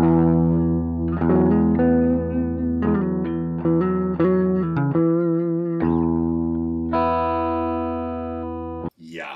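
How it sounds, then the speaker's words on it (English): Electric guitar playing clean tones through channel one of a vintage Silvertone 1484 amplifier, a sequence of sustained chords and single notes ringing out loud and near, with a brief break near the end. "So I figure I'll play a little bit of clean tones and whatnot through this channel one."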